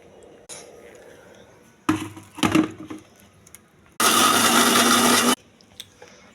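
A mixer grinder blends coconut chutney of roasted chana dal, tamarind, dried and green chillies, salt and a little water in a closed jar, roaring loud and steady for about a second and a half after some earlier clatter.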